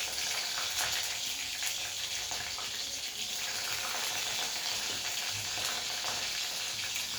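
Nigella seeds and slit green chillies sizzle and crackle in hot oil in a pan, a steady bright frying hiss with small pops, close and continuous with no talking.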